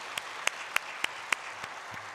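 A church congregation applauds its pastor, a light, continuous patter of clapping with a few louder individual claps standing out at regular intervals.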